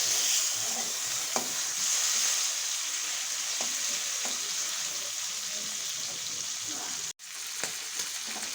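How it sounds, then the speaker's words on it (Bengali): Prawns fry in hot oil in a wok, a steady close sizzle with occasional stirring clatter and one brief break near the end. "বন্ধুরা, কড়াইতে তেল দিয়ে নিয়েছি,"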